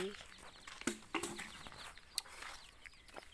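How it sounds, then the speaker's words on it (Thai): Chickens cluck faintly around a rural Thai home yard in Nakhon Sawan, with scattered soft clucks, a wing flap or two and other light outdoor sounds at a distance. "ไก่"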